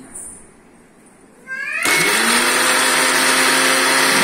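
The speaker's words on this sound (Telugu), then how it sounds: "ఇప్పుడు దీన్ని మనం మిక్సీ పడదాం మిక్సీ వేసుకుంటున్నానండి" A mixer grinder blending a chole curry paste starts up after a quiet moment and runs loudly and steadily, its motor whine holding an even pitch to the end.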